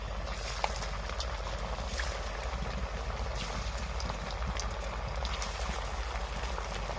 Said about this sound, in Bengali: এক এক করে মিষ্টিগুলো এবার আমি ভেজে নেব।